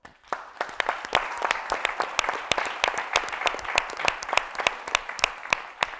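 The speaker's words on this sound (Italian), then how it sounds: "Vogliamo fargli un saluto e un applauso a questi splendidi ragazzi." An audience claps for dancers at a traditional show, with sharp individual claps standing out in an irregular rhythm over a softer bed of applause, fairly close and steady throughout.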